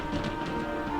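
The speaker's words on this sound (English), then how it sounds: "That night, a raging storm rolled in." Steady rain sound effect for a raging storm in a children's train story, a dense, continuous hiss of falling rain filling the brief moment with no voices.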